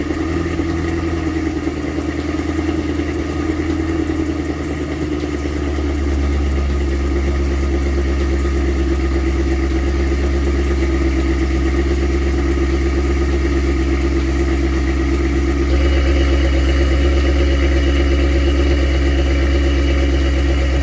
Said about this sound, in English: It is the stock valve exhaust though, so that way it is still somewhat quiet compared to this car